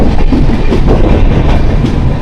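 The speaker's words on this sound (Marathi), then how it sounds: "11:15 झालेत बरोबर आणि तुतारी ट्रेन आले चिपळूणात." Tutari train pulling into Chiplun station, a loud, close rumble of rolling coaches with steady clattering wheels on the rails, continuous and without voices.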